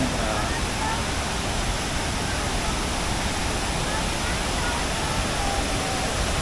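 Tad Kuang Si waterfall near Luang Prabang, Laos, roaring as a steady, dense rush of falling water that fills the whole stretch evenly and loudly, with no pauses.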